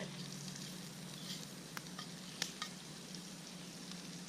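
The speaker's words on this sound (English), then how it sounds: "The onions are cooking up really good." Onions fry in a cast iron pan over an outdoor fire pit, a faint, even sizzle with a few light ticks and pops, no talking.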